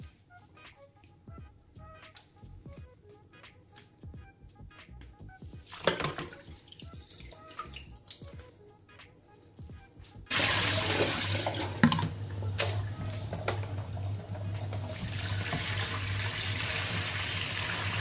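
Water runs from a tap to rinse a freshly cleaned fish, starting with a few quiet drips and clinks, then a splashy burst, then a loud, continuous gush of running water.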